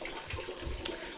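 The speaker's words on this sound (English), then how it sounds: "Undo your rad cap to get it flowing faster." Coolant pours from the radiator of a Toyota Supra with a 2JZGTE engine, a brief liquid gush and trickle that swells and falls over about a second, close up with no talking.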